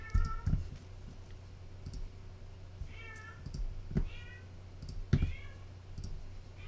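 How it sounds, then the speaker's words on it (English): Cats meow several times at a moderate distance, short rising calls spaced a second or so apart, with occasional clicks and a low background hum. "You probably hear my cats in the background too."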